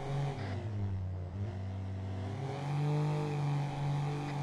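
An oncoming car in a Martinique roleplay game, its engine droning steadily with a smooth rising and falling hum that swells slightly as it draws nearer.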